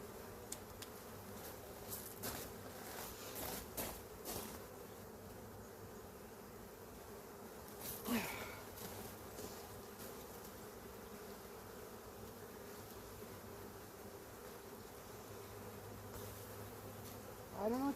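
Honey bees buzz continuously during a hive inspection, a dense close drone lasting throughout, broken by a few brief clicks and knocks of handling.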